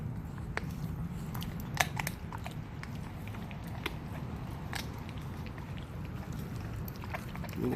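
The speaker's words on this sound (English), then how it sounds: "You can see she's able to chew up those bones now in that leg quarter." A dog chews raw chicken leg quarter bones, with sharp scattered cracks and crunches over a low steady background, fairly close.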